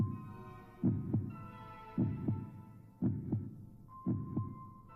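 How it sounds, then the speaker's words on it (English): Heartbeat sound effect in a horror-themed dating sim video game, a steady, quiet double-thump lub-dub pulse repeating about once a second over a low droning hum. "You can hear his breathing and your own heartbeats."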